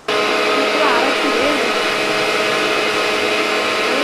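A kitchen mixer grinder whirring steadily as it grinds tomato masala for a parotta gravy, a loud continuous motor drone starting abruptly and running without pause, with a voice briefly audible under it.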